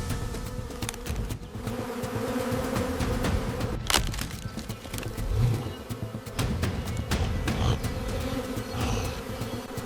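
Bees swarm and buzz around a honey badger as it raids their nest for honey and larvae in sandy wild terrain, a steady insect drone with scattered cracks and rustles throughout, no talk.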